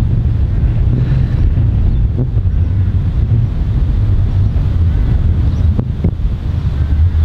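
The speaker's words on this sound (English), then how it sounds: "You can't hear me because it's so windy." Strong wind roars across an open golf course, battering the microphone with a steady, loud, low rumble that barely lets up, no voice audible over it.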